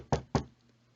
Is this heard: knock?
yes